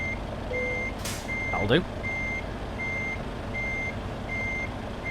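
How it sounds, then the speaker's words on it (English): A truck's reversing alarm in Euro Truck Simulator 2 beeps steadily, about six evenly spaced tones over a low engine rumble, with a brief air hiss and a short spoken remark in the middle. "Let me stop the reversey beep beeps"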